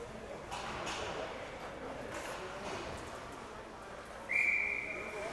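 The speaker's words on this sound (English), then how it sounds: "Whistle for a hand pass." A referee's whistle blows one sharp, steady blast over the rink noise of a youth U16 AA hockey tournament game to stop play for a hand pass, heard at a distance with no talk.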